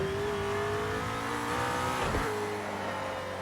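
A race car engine in the video game Project Cars 2 drones loudly and steadily at high revs through a lap, with a brief dip and surge in pitch midway and no voice over it.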